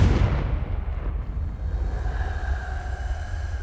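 A Confringo fire-blast spell exploding in the video game Hogwarts Legacy, a loud close boom that fades into a rumbling, crackling roar.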